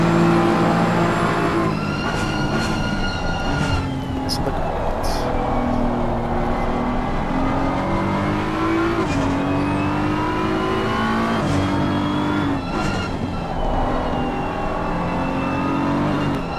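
A turbocharged BMW race car in a racing simulator game at Zandvoort revs loudly and continuously, its engine tone climbing and dropping through repeated gear changes and lifts, with brief tyre squeals and no talking.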